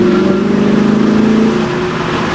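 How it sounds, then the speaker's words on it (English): A car with a loud, raspy aftermarket exhaust revs hard, its deep throbbing drone holding steady close by for about two seconds before easing slightly. "I'd say the exhaust is even louder."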